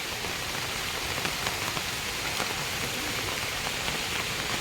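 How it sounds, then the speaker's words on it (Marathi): Monsoon rain falls steadily on open Konkan grassland, a dense, even patter with no pauses throughout, close and fairly loud, with no voices. "पाऊस आलाय तर आवाज कमी जात असेल थोडाफार"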